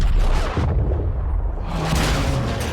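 Battlefield 6 trailer explosion, a loud deep boom with heavy low rumble and debris roar rolling on for seconds, dense and close.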